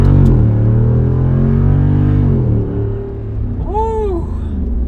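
A Jeep Wrangler 392 V8 sends out a loud, deep exhaust rumble as it accelerates, with rising engine harmonics that ease off partway through before a brief higher tonal whine near the end.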